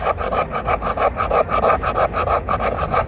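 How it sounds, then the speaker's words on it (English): The spine of a Bark River mini Kephart knife scrapes shavings off a piece of fatwood in quick, rhythmic back-and-forth strokes, a close, dry rasping repeated steadily with no voices. "Just want to scrape a little bit of that fat wood off"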